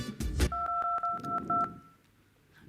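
A mobile phone beeps through a quick run of about seven evenly spaced dial tones after a few soft knocks, heard up close in a quiet room.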